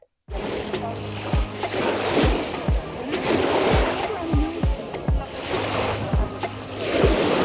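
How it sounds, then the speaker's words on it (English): Ocean waves wash onto an American shore, a continuous loud surf roar with wind buffeting the microphone in repeated low thumps throughout. "Bit of American Ocean before I leave to Korea."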